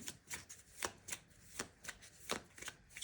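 Tarot cards are shuffled by hand up close, producing a quick series of crisp riffling bursts, about nine in three seconds, fairly quiet with no talking.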